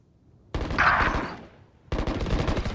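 Valorant gunfire: a loud burst of broadband shots starting abruptly, fading briefly, then a second dense burst of rapid fire resuming near the end, no talking.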